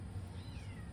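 A house cat lets out a single drawn-out meow, fairly close and clear over a steady low indoor hum, with no talking.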